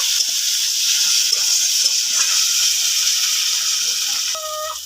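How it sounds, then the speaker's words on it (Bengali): Ginger, garlic and chopped tomato fry in a pan for a fish curry, giving a steady, close hiss of sizzling oil with light scraping, easing off near the end as a brief tonal squeak appears. "আদা রসুন টমেটোটা ভালো করে ভেজে কষিয়ে নেব"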